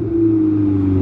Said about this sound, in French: Il y a une belle GTO qui passe, suivie d'une belle Bentley.